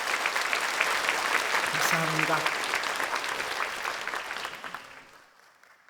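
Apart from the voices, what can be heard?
congregation applauding in church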